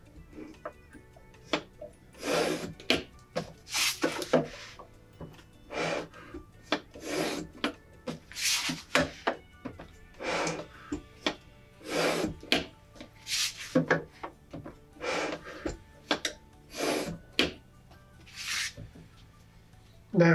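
A mat cutter slicing the window out of a picture-frame mount board, heard as a series of close, scraping rasps in irregular strokes separated by short pauses, with no talking.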